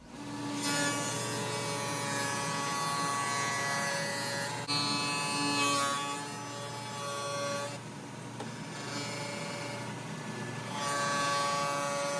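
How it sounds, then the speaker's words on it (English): A table saw fitted with a dado blade cuts a wooden canoe mast down from one inch to half an inch thick, giving a loud, steady whining buzz that runs continuously, with brief dips in pitch as the wood feeds through. "I'm actually making it go quicker using the dado blade on the table saw"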